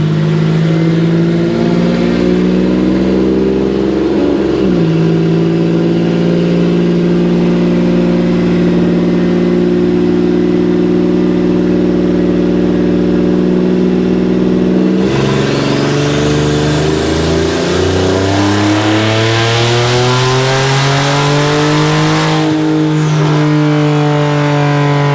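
Turbocharged AMR-kit car engine revving hard on a dynamometer pull, boosted toward 10 to 12 PSI, a loud sustained drone that climbs in pitch, dips briefly, then surges again through a higher-revving sweep near the end.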